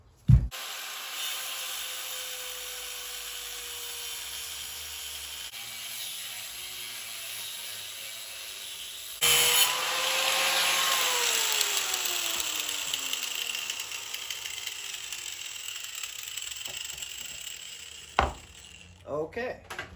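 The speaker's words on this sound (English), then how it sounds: "I just need to cut this right here and get this guy off there" Power tool cutting off a suspension part during a Lexus GS300 JZS147 angle kit install in a garage, a whining grinding cut that swells louder midway and sustains before stopping, followed by clanks and handling knocks.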